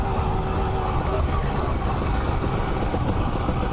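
A 2019 Husqvarna TE300i two-stroke dirt bike engine drones steadily and loudly while riding on a trail, a continuous broadband rumble with no clear pauses.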